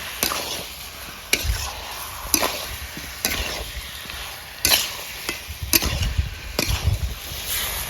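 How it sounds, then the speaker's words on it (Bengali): Potatoes and kohlrabi stir-fried in gravy in a pan, with a steady sizzle under repeated sharp scrapes and knocks of a spatula at an irregular rhythm, close and fairly loud. "আলু ওলকপিটাকে দুটোকে ভালো করে কষবো গ্রেভির সঙ্গে"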